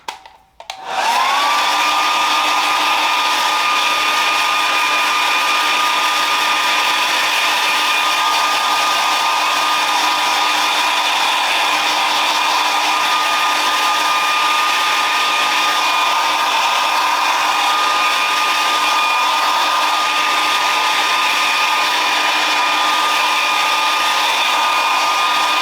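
A hair dryer runs steadily and loud for the whole stretch, drying and styling hair into a textured quiff on a hair system, with a constant whine and airy roar after a brief start, and no talk.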